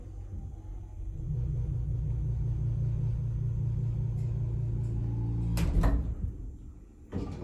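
A glass passenger lift rated for 13 persons and 1,000 kilos hums and rumbles through a long low drone, then its doors slide open with a clunk and a sharp rattle near the end.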